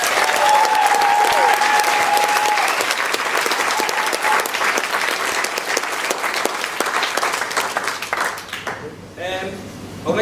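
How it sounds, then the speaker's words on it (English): A room full of people applauds with dense, sustained clapping that fades out near the end, with a brief voice at the start. "So I think a round of applause for Catherine, please"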